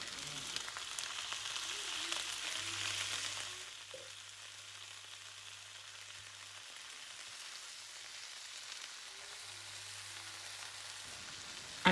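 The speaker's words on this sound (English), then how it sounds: "I'm just going to add in the tinned tomatoes." Tinned tomatoes tipped into a hot frying pan for a cauliflower and pea curry, giving a steady sizzle that fades to a quieter, gentle simmer with faint low hum and no talking.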